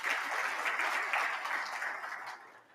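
Dense audience applause at a stakeholder roadshow event in Johannesburg, a steady wash of many hands clapping together that holds evenly and then fades out near the end.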